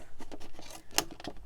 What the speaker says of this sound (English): I designate a pair of scissors to cut through anything